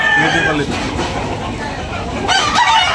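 A red rooster crows loudly amid the clucking of other chickens at a busy poultry market in Tabunok, Talisay, with voices and crowd bustle underneath.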